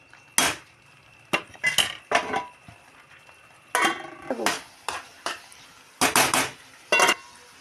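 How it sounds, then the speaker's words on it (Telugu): A metal lid and cookware clatter on a cooking pan of tomato egg curry, a series of sharp, close clinks and knocks in irregular bursts, separated by brief quiet gaps. "ఒక రెండు నిమిషాలు అయితే మూత పెడుతున్నా"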